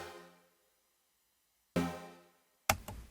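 A wavetable synth chord plays without its second bandpass filter, giving a plainer tone: a decaying tail, a second of silence, then a fresh chord hit and a brief, noisy percussive burst near the end.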